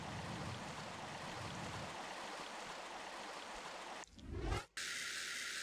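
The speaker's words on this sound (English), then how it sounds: "As we make our way out of the water, it's quite loud, this water." Loud, steady rush of flowing water in the Tomb Raider (1996) video game, Tomb of Tihocan level, filling the first four seconds, then a short mechanical surge and cut before the water noise returns on its own.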